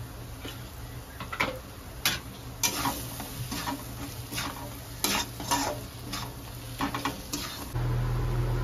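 Homemade spice masala roasts in a pan with a low sizzle, while a utensil scrapes and knocks against the metal in regular strokes, close up and without any voices.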